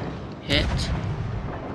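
A single heavy boom from warship guns in World of Warships Legends, firing at a light cruiser, bursts out with a short rumbling tail beneath a player's speech.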